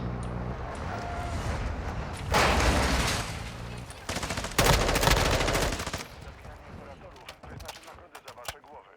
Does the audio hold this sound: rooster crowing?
no